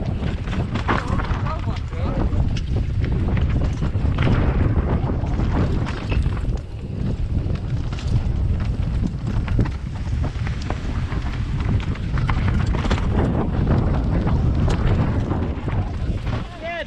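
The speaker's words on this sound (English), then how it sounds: "although it's sunny, it's extremely windy and it's rained all morning" Strong gusts of wind buffet the microphone outdoors on a sunny but rainy day at a downhill mountain-bike course, a loud continuous rumbling roar that masks the background throughout.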